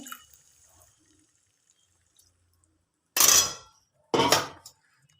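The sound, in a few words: mushroom boiling water poured into frying spice paste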